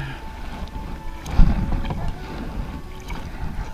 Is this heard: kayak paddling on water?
yes